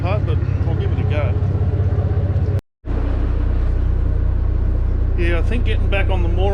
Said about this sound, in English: I'll give her a couple of revs.